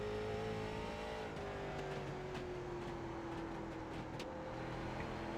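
A late model race car engine in iRacing at North Wilkesboro drones steadily at high revs, the pitch sliding slowly down through a corner with faint clicks and light tire noise, no talking.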